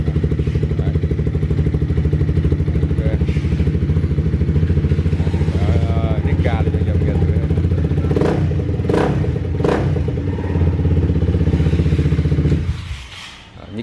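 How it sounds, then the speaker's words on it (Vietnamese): A used 250-650cc motorcycle engine idles loudly and steadily close by, with a rough, clattering pulse, then cuts off near the end. Someone talks over it. "tiếng máy cũng rất là rát luôn nha anh em"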